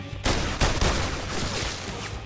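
A sudden burst of rapid gunfire in The London Heist VR game erupts and continues as a dense, loud volley of shots for a couple of seconds.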